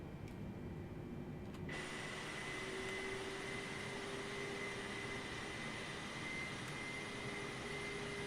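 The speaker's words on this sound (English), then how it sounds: "let's go taxi to the runway" Jet engines of a Boeing 747-8i taxiing in Microsoft Flight Simulator make a continuous loud whooshing roar with a steady whine. A higher tone joins in early and holds throughout, with no voices.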